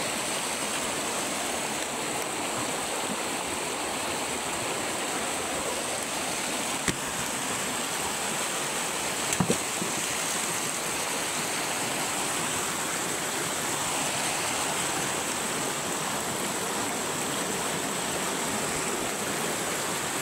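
Water from a waterfall roars in a steady, even wash of rushing noise throughout, with no pauses.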